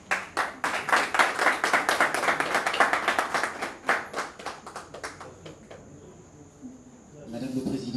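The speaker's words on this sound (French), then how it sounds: "Je vous demande encore une fois d'applaudir pour ces jeunes." Brisk, close clapping from a small group at a formal reception in honour of young people, fairly even and steady at first, then thinning out and fading into room noise with voices resuming.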